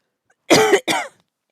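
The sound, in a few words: coughing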